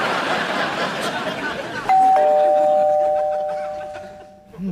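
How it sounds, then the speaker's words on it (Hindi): A two-tone doorbell chime rings once downstairs in a home, its bright ding-dong lingering and fading over a murmur of background chatter and noise. "नीचे घंटी बज गई, मेहमान आते होंगे।"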